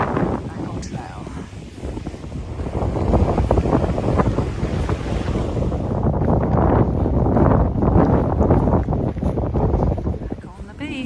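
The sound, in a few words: waves and wind on a beach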